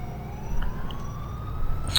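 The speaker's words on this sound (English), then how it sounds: "I'm kind of wanting to go see where those sirens are coming from and why" Police sirens wail in the LCPDFR video game, a rising electronic tone sweeping upward under a low vehicle rumble, faint and somewhat distant over a short stretch.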